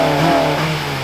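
A Honda Civic Type R engine revving hard on the spot, a loud, steady, close-up engine drone held at high revs for about a second with no talk.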